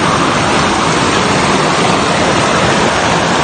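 Knife Falls waterfall in Cabanglasan, a loud, close, unbroken roar of rushing water that stays steady and dense throughout with no voices.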